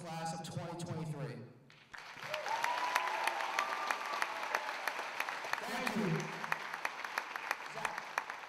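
An audience applauds at the Mr West Essex 2023 pageant show, with dense, steady clapping that follows a brief stretch of talk and carries on to the end.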